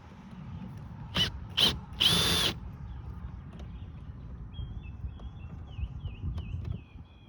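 Power drill backing out Torx screws from a 2021 C8 Corvette hard top convertible, two short whirring bursts and a longer one up close, then quiet handling clicks.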